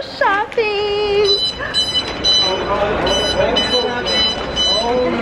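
A store security alarm beeps at the Zara exit in a rapid series of high, bright tones. People talk loudly close by over the beeping.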